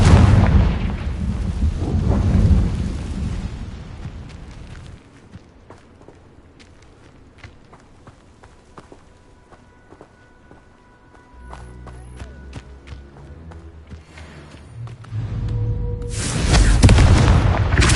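A Confringo blasting-curse explosion erupts in a video game as a loud, rumbling burst, settling into quieter clicks and thumps before another heavy blast rises at the end.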